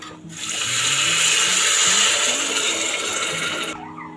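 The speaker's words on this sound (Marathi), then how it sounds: "आता आपण याच्यात पाणी टाकूया" Water pours steadily into a pot of rice for about three seconds, a broad rushing splash that starts abruptly and cuts off, with faint low background hum.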